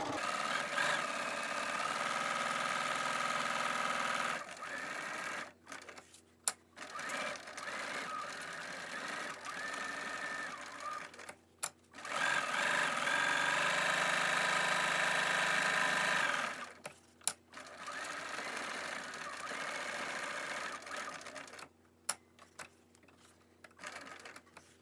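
A sewing machine stitches a cloth face mask with elastic in steady mechanical runs, stopping and starting several times with brief pauses between bursts, close and clear.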